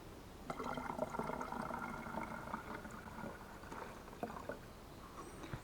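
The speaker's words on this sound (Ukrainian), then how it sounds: "Все це змішую з водою." Liquid bubbles and gurgles as 9% vinegar is poured and mixed with water, a steady fizzy rush that tapers off with a few small splashes.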